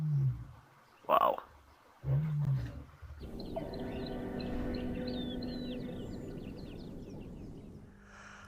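Lions roar on an African safari about twenty meters from a game drive vehicle, a deep rumbling call followed by a long low rolling roar, with a presenter's brief exclamation and bird calls in the open bush.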